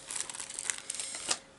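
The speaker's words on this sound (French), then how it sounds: "il y a un petit plastique qui protège parce que vous avez de la colle sur les couleurs pour coller des petits cristaux" Thin protective plastic film peeled and crinkled off a makeup palette whose colours carry glue for sticking on small crystals, giving a close, crackly rustle with sharp little snaps that lasts just over a second.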